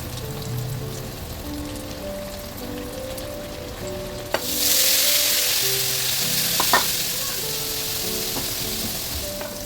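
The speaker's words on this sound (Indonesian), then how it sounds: "sekarang aku mau lanjut aja buat goreng tempenya" Tempeh dropped into hot oil in a pan breaks into a loud, bright sizzle that carries on steadily. A few clinks come from utensils over quiet background hum, with no one talking.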